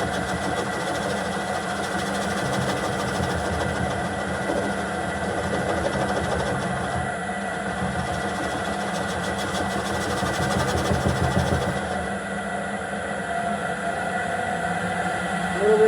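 Wood lathe turning a small elm bowl with a gouge, a steady motor hum with a fast rhythmic chatter of the tool cutting. It runs continuously and fairly close, easing briefly near the end.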